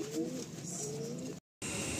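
Pigeons coo softly in a pigeon loft, a low, faint, continuous warble that cuts out for a brief moment before resuming, with no talking.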